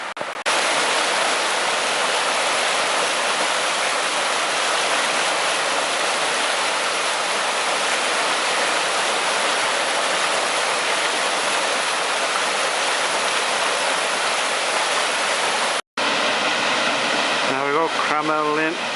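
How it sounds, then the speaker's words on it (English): Crammel Linn, Northumberland's biggest waterfall, produces a loud, constant rushing roar of falling water, close and unbroken, with a brief cut near the end followed by faint other sounds. "Crammel Linn, Northumberland's biggest waterfall"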